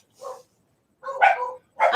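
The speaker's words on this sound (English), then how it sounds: "That's why the dogs are kicking off." Several dogs kick off barking at home: three short bursts of close, sharp barks separated by silence, with nothing else heard around them.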